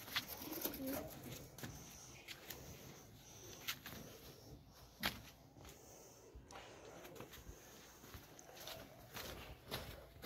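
Pigeons cooing at a pigeon keeper's loft where parent birds are raising chicks, a soft, steady murmur of coos with occasional wing flaps and scuffles over a low ambient background.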